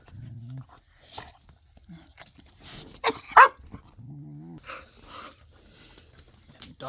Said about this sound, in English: he was still woofing, so we paused it